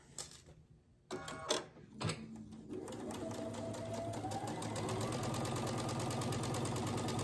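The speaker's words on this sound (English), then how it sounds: "I'm going to take it to the sewing machine, line it up" A sewing machine stitches quilt pieces together: after a few short clunks and starts, the motor settles into a steady, rapid, close-up whirring rattle that carries on to the end.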